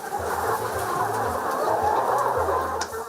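Layer chickens on a poultry farm make a dense, steady chorus of overlapping clucks and chatter from many birds at once. It is loud and continuous throughout, with a low mechanical hum underneath.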